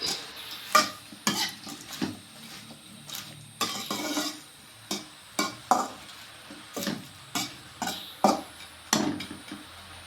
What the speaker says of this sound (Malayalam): ലേശം ഉപ്പും കൂടി ഇട്ട് കൊടുക്കാം. ഇതൊന്ന് ഇളക്കി യോജിപ്പിക്കാം.